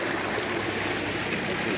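A small stream of water runs down a waterfall with a steady, close, unbroken rushing and splashing that stays even throughout.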